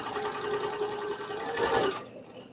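A sewing machine that has sat long in storage and needs more oil runs steadily with a busy, slightly clickety whir, close up, then stops abruptly.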